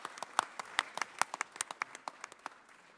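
Applause from an audience at an Italian conference, fairly sparse with distinct individual claps over a softer patter, somewhat distant and quiet, tapering toward the end.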